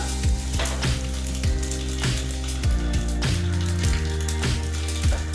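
Semiya vermicelli snack frying in a pan of oil over a low flame, with a steady dense sizzle throughout and a few soft clicks and knocks of a utensil; no one speaks.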